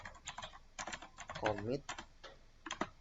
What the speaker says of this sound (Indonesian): Setelah itu kita ketik git commit